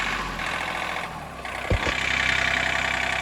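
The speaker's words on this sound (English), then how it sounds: "Let me idle it down." A John Deere tractor engine idling steadily, with a brief low thump partway through before the idle settles into an even, rumbling drone.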